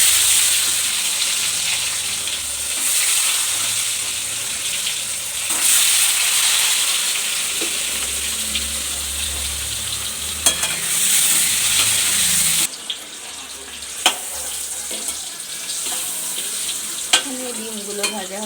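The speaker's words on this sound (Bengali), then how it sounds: "এখন একটু ভেজে নেব।" Salted fish roe fries in oil in a pan, a loud continuous close sizzle and hiss with scraping stirs, quieting slightly partway through as the heat settles, no voices.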